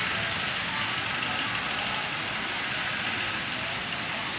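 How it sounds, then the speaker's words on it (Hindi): Heavy stormy rain falls in a village, an unbroken, even wash of hiss that stays constant from start to finish. "बहुत ज़्यादा बारिश हो रही"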